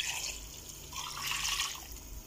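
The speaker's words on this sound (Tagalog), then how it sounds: "Lagyan natin yung tubig." Water pours steadily into a cooking pot for pork sinigang with chili, a close, continuous splashing stream that swells and eases, with no talking.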